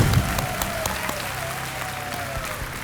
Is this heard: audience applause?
yes